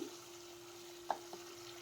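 Onion and tomato cook down in oil in a pan for pav bhaji, a soft low sizzle with a faint steady hum and one or two quick clinks of a stirring spoon, quiet and close.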